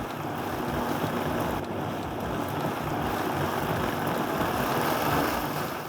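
A kitchen blender runs continuously, blending salsa roja to a finer texture, a steady close whirring roar that holds even throughout without talk.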